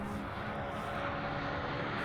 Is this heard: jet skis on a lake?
yes